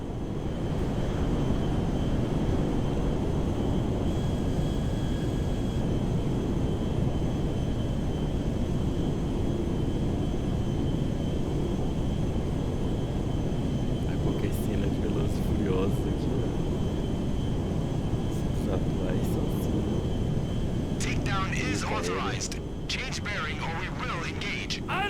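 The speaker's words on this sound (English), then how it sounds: "Esse aviãozão é bom demais, velho." A large airplane in Grand Theft Auto 5 drones continuously with a loud, steady engine roar throughout, while people talk over it.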